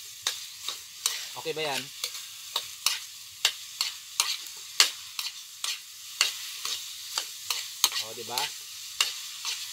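A spoon or spatula stirs ingredients frying in a pan, scraping in repeated short strokes over a steady sizzle, with a brief spoken remark.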